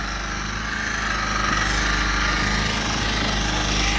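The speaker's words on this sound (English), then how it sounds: "let's see the power of this polisher" An SPTA mini polisher runs against a car headlight, giving a loud, continuous motor drone with a rough, rattling buzz that holds steady throughout.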